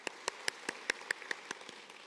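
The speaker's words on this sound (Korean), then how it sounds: "큰 축복의 박수 보내드리겠습니다" About ten slow, evenly spaced claps from a church congregation, crisp and fairly close in a quiet room.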